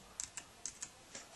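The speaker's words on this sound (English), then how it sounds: "Now I gotta type in my security key." A handful of quiet, close keystrokes tapped unevenly on a computer keyboard while a security key is entered, with short gaps between the clicks.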